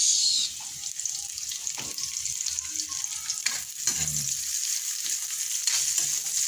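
Onion tossed into a pan of frying garlic and ginger for tinola, giving a steady, close crackling sizzle with occasional stirring scrapes throughout.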